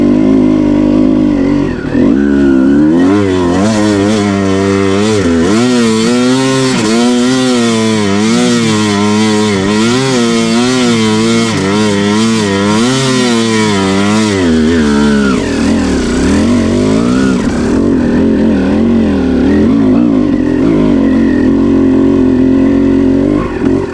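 A 2006 Kawasaki KX250 two-stroke dirt bike with a VHM head and 11 oz flywheel weight revs hard and loud up a hill, its pitch rising and falling as the rear wheel spins, then dropping to a throbbing lower rev near the end.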